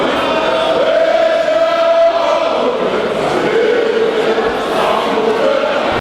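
A huge jubilant crowd gathered outside a court in Abuja, a dense, continuous roar of many voices shouting and cheering together, loud and sustained with no pause.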